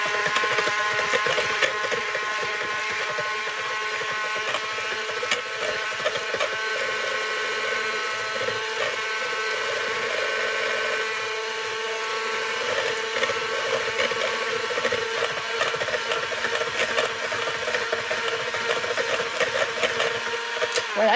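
Electric hand mixer beating boxed cake mix with water, vegetable oil and eggs, a steady motor whir with rattling beaters running loud and continuous throughout.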